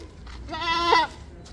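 A single goat gives one close, nasal bleat that rises and wavers for about half a second at a goat farm in Bhiwandi, Padga, with faint farmyard background around it.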